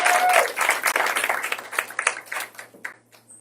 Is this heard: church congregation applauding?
yes